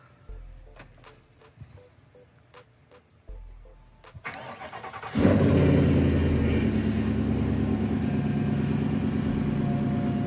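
A 2019–2022 GMC Sierra pickup engine is started in freezing winter cold: a few cranking pulses, then it catches with a loud rising roar and settles into a steady, close, rough idle. No one speaks.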